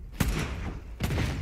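Gunfire in the video game The Cycle: Frontier, two sharp booming shots about a second apart, each with a short rumbling tail, fairly faint overall.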